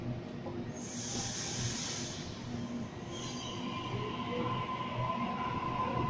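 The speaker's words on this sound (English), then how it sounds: "A41 departing." A Sydney Waratah electric train pulls away from a station platform at evening peak, with a steady, loud rolling rumble, hiss and a high wheel squeal nearby. No one speaks.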